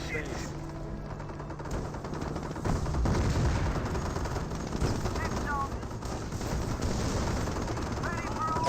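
Battle gunfire in Company of Heroes 1, British forces versus Wehrmacht with a Staghound armoured car and Grenadiers, continuous machine-gun chatter and scattered shots under a busy, noisy battlefield, with a commentator talking over it.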